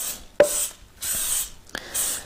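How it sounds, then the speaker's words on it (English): Three short hissing sprays of cooking oil from a can, each a broadband burst lasting about half a second, separated by quiet pauses and a small clatter from handling the can. "So I spray the edges with that"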